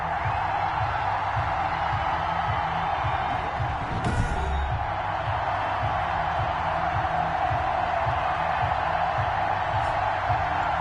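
Stadium crowd noise from a football video game, Washington against the Los Angeles Rams, forms a constant loud roar with a steady rhythmic chant-like pulse underneath and one brief louder burst near the middle.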